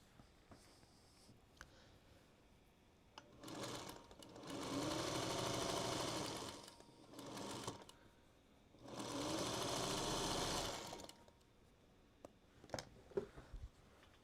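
Sewing machine stitching quilt blocks for a cozy cabin quilt, two sustained runs of fast rhythmic whirring separated by short pauses, with small clicks and handling noises between.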